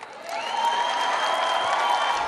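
Audience applause at a political event for Ted Cruz, a steady dense wash of clapping lasting a couple of seconds with a faint sustained tone running through it.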